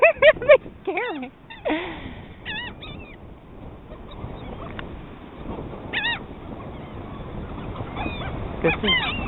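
Geese honk in several loud, close bursts, clustered at the start and again near the end, with a person talking and exclaiming between and over the calls.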